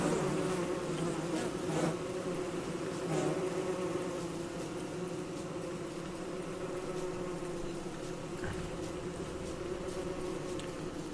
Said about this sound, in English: A lot of bees spawning on.